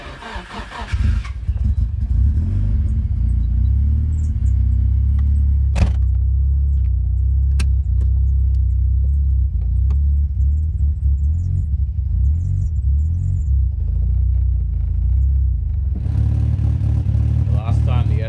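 A Nissan SR20DET engine in an LS13 cranks and catches, then idles with a loud, steady low rumble that continues throughout, with brief clicks and a burst of higher noise near the end.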